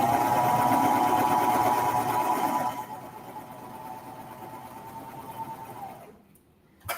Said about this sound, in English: I always sew from the top to the bottom to get those edges to line up